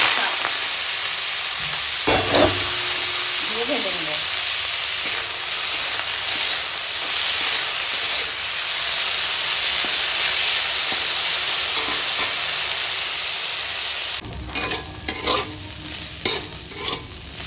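Radish greens fry in oil with a dried chili tempering, making a loud, close, continuous sizzle with steady stirring. Near the end the hiss gives way to irregular scrapes and clatter of a spatula against the pan.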